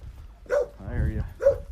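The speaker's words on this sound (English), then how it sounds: "Yeah, you're making a lot of noise there, dog." A tethered dog outdoors near the Kaninë castle site in Albania lets out two sharp barks with a rougher growling yowl between them, close and fairly loud.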